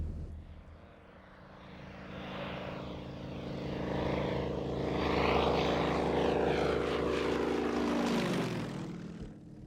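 A light propeller airplane drones past at an air rally at Wroughton, England, its engine growing louder as it approaches, then fading away, with a steady low hum.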